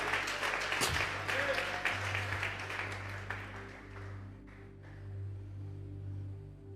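A church congregation claps in a burst of applause during a Spanish-language worship service. The dense clapping is strongest in the first few seconds, then fades under a low hum and voices.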